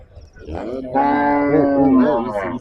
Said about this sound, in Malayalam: ഒരുപാട് പശുക്കളുണ്ട്. ആയിരക്കണക്കിന് പശുക്കളാട്ടെ ഇവിടെ ഉള്ളത്.